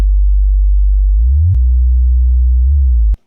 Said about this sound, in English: then you got your bass in the drop